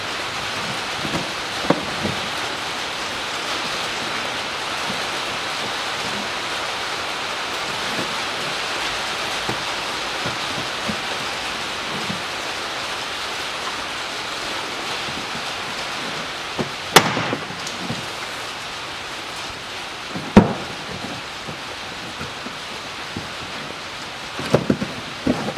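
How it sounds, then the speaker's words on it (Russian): Steady rain falls throughout during work on the air suspension compressor of a Land Rover Discovery 3, a continuous broadband hiss with a few sharp knocks and clicks near the end. "Дождь пошел."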